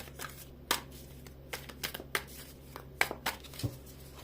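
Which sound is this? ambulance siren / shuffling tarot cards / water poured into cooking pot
shuffling tarot cards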